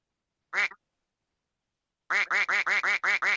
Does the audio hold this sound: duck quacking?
yes